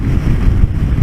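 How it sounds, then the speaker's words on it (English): Strong wind buffets the microphone on a road where tumbleweeds blow past, a loud continuous roaring rumble with no breaks and no voices. "that's how windy it is."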